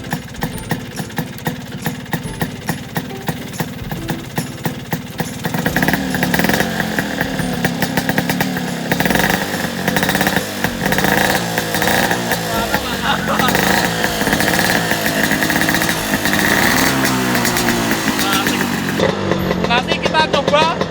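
A Vespa scooter engine with a smoke bomb lit in its exhaust revs loudly and continuously, rising in intensity after a few seconds and holding a steady, rough drone throughout, with voices talking over it.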